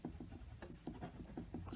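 A pen scratches across paper in quick, quiet, repeated strokes, close up and soft, with no voices.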